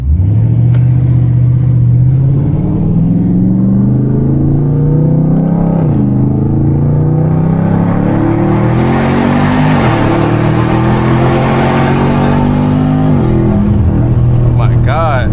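A tuned Dodge Challenger 392 Scat Pack V8 revs hard while driving, a loud, close engine roar rising and falling through several pulls, with voices talking over it.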